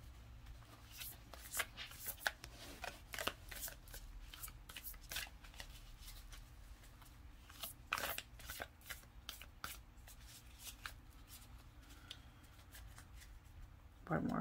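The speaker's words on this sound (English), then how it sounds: "One more good shuffle." Tarot cards being shuffled by hand, a steady run of riffling and snapping bursts close to the microphone over a quiet room hum, with a few louder flurries.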